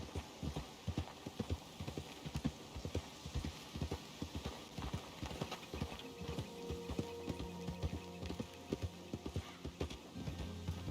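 Horse named Moose in Red Dead Redemption 2, hooves clip-clopping in a quick, steady rhythm throughout, close and clear, with a brief whinny and a low hum of game ambience underneath.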